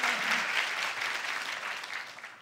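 Audience applause fills a lecture hall after a Korean actor's self-introduction, dense steady clapping throughout at fairly strong level, tapering slightly toward the end, with no voices over it.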